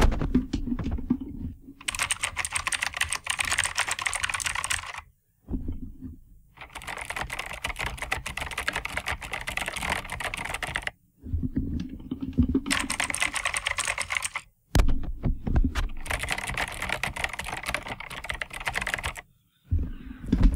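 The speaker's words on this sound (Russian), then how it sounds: "Кстати, да, как звучит эта клавиатура?" Rapid typing on an 8BitDo Retro Mechanical Keyboard, close and crisp, in several continuous bursts separated by brief pauses.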